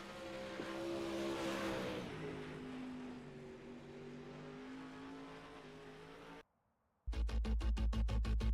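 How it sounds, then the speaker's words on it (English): Dirt oval race cars from a Northwest dirt oval series circle the track on warm-up laps at Lanier, a steady engine drone with rising and falling pitch, then a brief near-silent gap before a loud, pulsing, close-by engine roar. "Let these drivers turn some laps, get a little bit more practice in before we hit the 50-lap feature"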